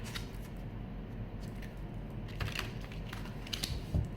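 A tarot card deck being shuffled by hand, a quiet, close run of soft riffling flicks and papery taps with a few sharper clicks toward the end, without speech.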